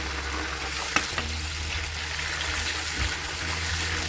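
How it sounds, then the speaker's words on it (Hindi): Tomatoes and garlic-ginger paste frying in a pan while being stirred, a steady sizzle with a low hum beneath and a couple of soft spoon scrapes. "अब इसमें हम 2 टीस्पून छोटी चम्मच लहसुन अदरक का पेस्ट मिला देंगे।"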